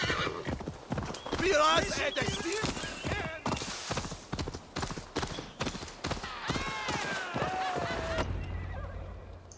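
Horse hooves clip-clop steadily in the Assassin's Creed Valhalla video game, with a horse whinnying and someone talking over the galloping rhythm.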